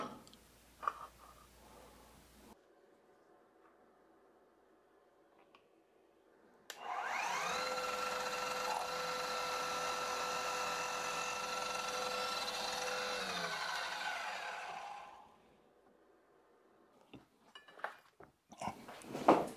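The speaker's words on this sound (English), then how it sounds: "now I'm gonna drill those" A power drill bores holes in a slotted bar for a WINWING Orion2 F-16EX throttle mount. A steady, loud whirring runs for about eight seconds on its own, framed by quieter handling noises before and after.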